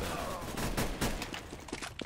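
Gunfire in Counter-Strike: Global Offensive, a rapid string of short shots in quick succession, fairly loud against game background noise.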